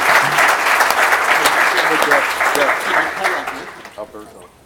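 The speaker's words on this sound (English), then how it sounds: "I'd like to have a round of applause for them before we get going." Audience at a scientific conference session on hydrologic sciences applauds the associate editors, a dense burst of clapping that thins out and fades toward the end.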